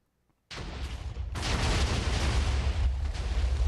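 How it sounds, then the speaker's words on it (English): An explosion in a video game bursts in suddenly, loud and near, then rolls on as a dense, sustained roaring rumble that stays strong to the end. "I can hear the explosion."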